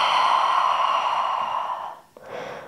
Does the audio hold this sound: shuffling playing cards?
no